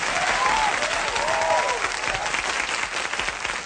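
Dense, sustained applause from a large crowd, loud and continuous, with a few faint whistles or cheers rising above the clapping.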